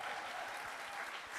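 An audience at a faculty literary reading claps in a brief, soft burst of applause. It sounds distant and faint but steady throughout.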